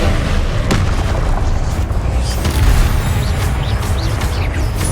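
In the Hogwarts Legacy video game, a Descendo spell lands with a heavy booming slam, a dense loud rumble that fills the whole stretch amid battle noise.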